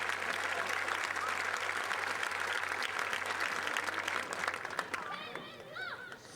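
Graduating class and crowd at a high school graduation ceremony clapping in a broad, sustained wave, loud at first and then thinning out with scattered claps and faint whoops toward the end.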